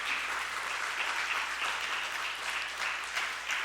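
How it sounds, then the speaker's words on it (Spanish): A church congregation applauds God during a sermon, producing a steady, even wash of many hands clapping together, heard at a moderate distance without pauses. "¿Cuántos pueden darle un aplauso al Dios del cielo?"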